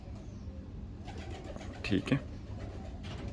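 An older pigeon gives a short, soft pair of coos, close and low, while someone speaks briefly nearby.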